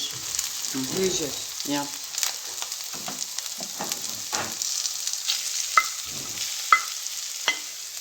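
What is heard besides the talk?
chicken frying in a pan for pizza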